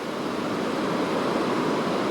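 Ocean surf breaking on a storm-battered beach lined with palm trees, heard as a steady, continuous broadband roar with no distinct individual crashes and no voices.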